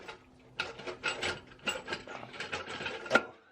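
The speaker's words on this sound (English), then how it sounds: "One-handed pulling an LS head." Metallic clanks, scrapes and rattles as an LS engine cylinder head is worked loose and pulled one-handed, a string of irregular close knocks and rubs with a sharper clink near the end.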